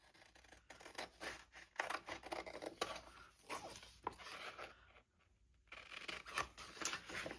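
Scissors snip through a clear plastic sticker sheet in quiet, close, repeated cuts with a brief pause midway, and no talking over them.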